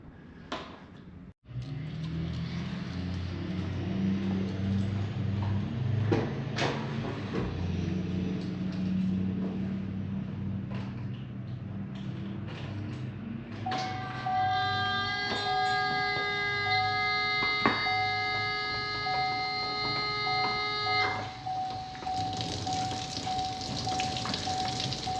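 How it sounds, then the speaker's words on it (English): A Fass 165 Signature Series lift pump motor runs steadily through the whole stretch as fuel is drawn in, a constant mechanical drone with a sharp clunk early on and a high whining tone joining for several seconds midway. "turn the pump on until fuel gets into the pump and there's an audible change in the motor sound"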